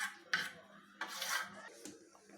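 A spoon scrapes and stirs fried semolina (sooji) in a metal pan for halwa, giving a few close, rough scraping strokes with no talking.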